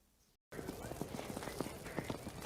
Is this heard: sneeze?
no